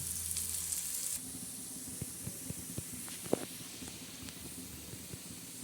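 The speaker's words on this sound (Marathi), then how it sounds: "आता हा कांदा चांगला काळसर भाजणार आहोत आपण" Onion roasting dark in a pan alongside coconut, garlic and whole spices for black masala, a faint steady sizzle and hiss with scattered small crackles and stirring taps, no voices.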